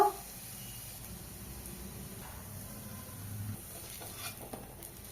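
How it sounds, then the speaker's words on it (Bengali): Onions frying in hot oil give a steady, even sizzle that stays moderately quiet throughout, with one brief clatter at the start. "তেলে পেঁয়াজ ভেজে নেব।"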